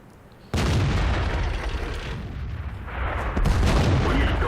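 An artillery gun in World of Tanks fires a heavy, close boom that kicks in sharply and rumbles on, with a second blast rolling in near the end; no talk.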